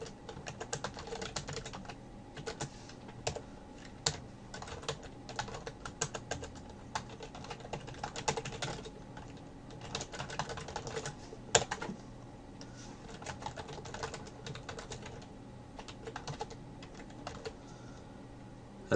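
Typing on a computer keyboard, a long run of quiet, close key clicks in uneven bursts and pauses, with occasional sharper keystrokes.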